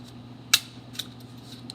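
A stapler drives staples through paper zebra ears into the back of a paper plate in a craft project, giving one loud sharp snap followed by two fainter clicks, with no talking.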